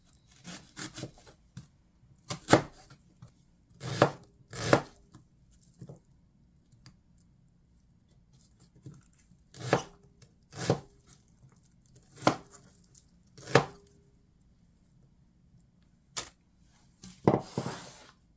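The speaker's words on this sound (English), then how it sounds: "Cut a lot of onions." A knife chops onions on a board in a home kitchen, with sharp, irregular thuds and taps in uneven clusters separated by quiet pauses.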